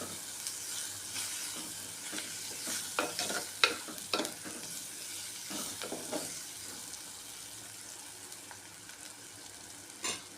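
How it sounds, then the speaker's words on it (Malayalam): Onion, tomato and turmeric sautéing for a fish curry, a steady sizzle and hiss with repeated scraping stirs of a spoon against the pan, fairly close and continuous with no talking. "ഇനി നന്നായിട്ടൊന്ന് ഇതെല്ലാം കൂടെ ഒന്ന് വാടി വഴണ്ട് വരണം"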